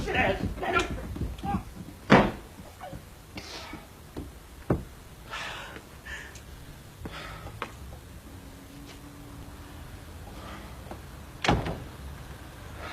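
Door in a 1980s Coronation Street scene opened and slammed shut amid a heated domestic argument; several sharp bangs and knocks cut through raised voices, with shouting throughout.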